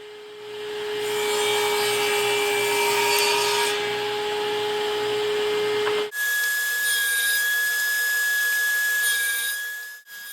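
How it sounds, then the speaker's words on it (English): A table saw chamfers the long edges of a wooden hammer head with the fence set from the blade, a loud steady whining cut that shifts pitch midway and runs continuously for about ten seconds. "First, we're going to put a chamfer on all four long edges of the table saw."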